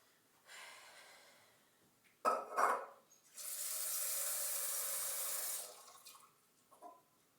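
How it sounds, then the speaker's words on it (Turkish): Cold water pours into a pot on a home stove while chickpeas and rice are being cooked, making a steady, moderately loud rushing stream lasting about two seconds after a few brief splashes and clinks. "Biraz da soğuk su ilave ettim."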